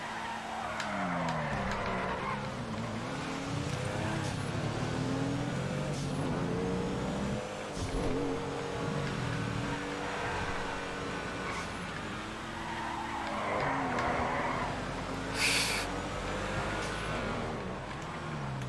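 An FQ2 car in GTA FiveM drives fast and slides, its engine revving and rising and falling in pitch with tires squealing through the slides, loud and continuous with no talk.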